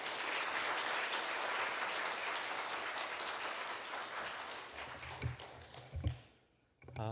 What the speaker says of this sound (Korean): 우리 목사님 나올 때 큰 박수로 환영하겠습니다.